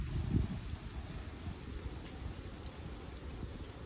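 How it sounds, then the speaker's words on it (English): Low rumbling wind buffets the microphone outdoors, with a gusty burst at the start and steady blustery noise after. "Sorry about the wind, changing weather,"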